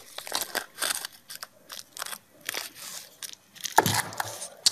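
A series of short, crisp crunching cuts through a dry nori seaweed sheet wrapped around salmon, irregular and close, with brief quiet gaps between them.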